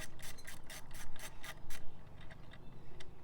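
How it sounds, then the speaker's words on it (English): A 10 mm wrench ratchets on a bolt while a switch panel is installed on a 2017 Jeep Wrangler, giving quick, close scraping clicks in a burst of strokes that fade to a few sparse ticks, with no talking. "I get the wrench working properly."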